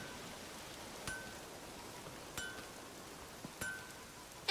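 Steady, faint rain falls in The Witcher 3: Wild Hunt as an even wash of noise, with a few light clinks at regular intervals.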